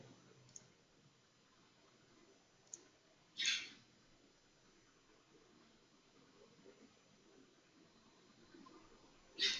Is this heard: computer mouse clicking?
yes